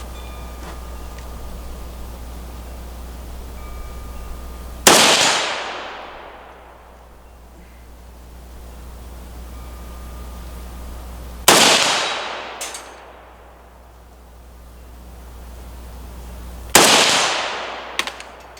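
Three loud PSA AK-E rifle shots ring out one at a time during accuracy testing, each a sharp crack followed by a long fading echo, spaced several seconds apart over a low steady background hum.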